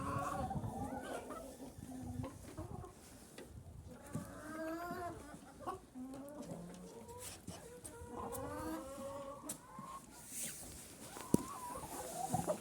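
Chickens cluck softly and continuously at close range while feeding on sunflower waste and bee pollen, an old hen rummaging in a pot among them, with a single sharp click near the end.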